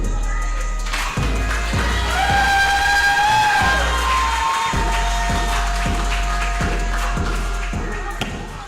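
A wrestling event crowd cheers and shouts in a rowdy arena, with rhythmic claps or stomps thudding along steadily under the noise.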